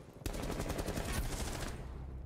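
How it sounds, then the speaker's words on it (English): Rapid automatic gunfire in Rainbow Six Siege, a dense burst of shots rattling continuously for about two seconds, loud and close, with no voices over it. "I shot right through Doc's head"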